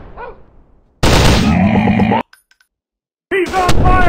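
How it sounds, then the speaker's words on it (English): Suppressive automatic gunfire in the mobile shooter Commando Strike: a loud, dense burst of rapid shots lasting about a second, then a short silence before another burst with a shouted voice line over it. "Suppressive fire on target!"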